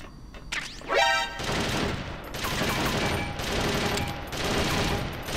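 Turret guns blaze in Metal Gear Solid, a sustained roar of rapid automatic fire that runs almost the whole stretch in loud, dense bursts, with a brief rising whine near the start.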